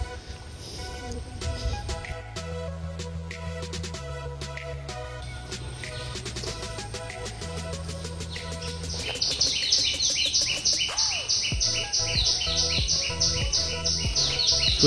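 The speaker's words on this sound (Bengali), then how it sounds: "কোথায় এখন পাখি ডাকছে বুঝতে পারছি না," Birds chirp in a mangrove forest near Taki, with quick high twittering calls that thicken into a steady, busy chorus in the second half, over a constant low hum and tonal background sound.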